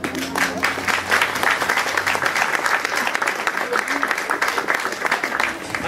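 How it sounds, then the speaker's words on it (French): Steady applause from a crowd at the Fête de la lumière in Saint-Joseph, dense clapping throughout with a voice faintly audible underneath. "Il mérite des applaudissements, non?"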